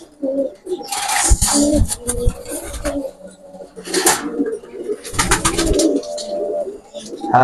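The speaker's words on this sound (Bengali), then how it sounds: "দেখেন, পিওর বিলার লাইনের কবুতর, ইম্পোর্ট বিলার লাইনের কবুতর" Imported pure Biller line pigeons, a Teddy 128 bird among them, coo in a loft in repeated throaty bursts close by, with soft wing and body rustles between calls.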